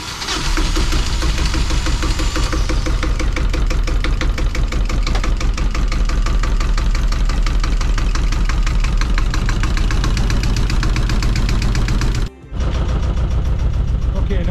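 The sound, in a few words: Yanmar 1GM marine engine running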